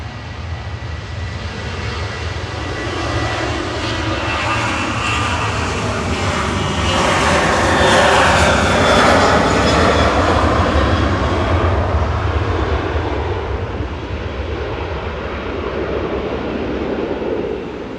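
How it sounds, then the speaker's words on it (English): A Ryanair airliner departs runway 23 left for Cologne, its engines building into a loud roar that peaks mid-way with a sweeping, shifting tone as it passes, then eases slightly while staying strong to the end. "Ryanair's next up for departure on 23 left, heading over to Cologne with flight"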